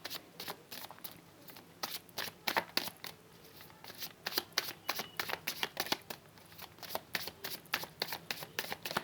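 Tarot cards are shuffled by hand close up, a quick run of crisp riffling snaps and soft slides repeating in irregular bursts, with no voice.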